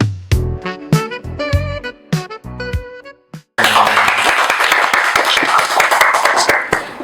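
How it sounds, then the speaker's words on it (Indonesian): Group applause with many hands clapping, bursting in loudly after a stretch of tonal music and holding steady at close range. "Tepuk tangan dulu semuanya."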